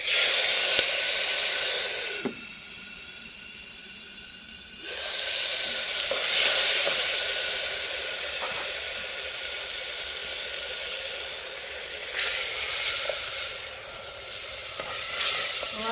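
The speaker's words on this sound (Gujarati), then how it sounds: "હવે આપણે પહેલાં આનો વઘાર કરી નાખીએ" Cumin, asafoetida and curry leaves hiss and sizzle loudly in hot oil for a Gujarati village-style tempering, a dense steady crackle that briefly drops and surges as spices are stirred in, with no talk.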